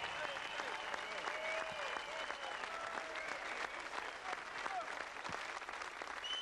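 Sustained audience applause for Schorsch Salz at a Saarland stage event, dense and steady throughout with faint whistles and scattered voices in the crowd.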